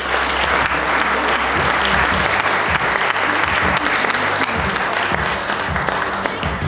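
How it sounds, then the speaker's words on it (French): Dense audience applause at an awards ceremony, many hands clapping in a loud continuous roar with sharp individual claps poking through, a voice briefly heard beneath it. "Bonne main d'applaudissements, mesdames et messieurs."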